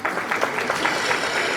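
A graduation audience claps in a continuous, even burst of applause, dense and moderately loud throughout with no pause.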